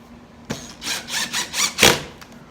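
Power drill driving screws into a guitar bridge during assembly of a Boxter guitar kit, several short whirring bursts with a sharp squeal near the end, close and fairly loud with brief pauses between.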